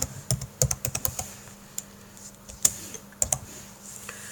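Typing on a computer keyboard while writing an exercise sheet: irregular clusters of light, crisp key clicks with pauses between bursts, close and fairly quiet.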